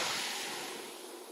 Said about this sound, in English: are you enjoying the soothing sounds of the water?